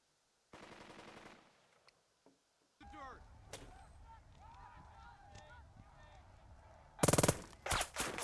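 Gunfire in the Burden of Command video game, with a rattling burst of rapid shots, then scattered battlefield sounds and honk-like effects, and a loud volley of shots near the end.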